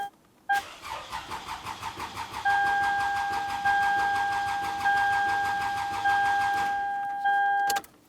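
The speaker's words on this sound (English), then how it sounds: "we're going to turn the car on and try to get it to start" A 2002-2006 Toyota Camry is cranked but fails to start. The starter churns rhythmically up close, then gives way to a steady whirring drone with repeated electronic chime tones before it stops.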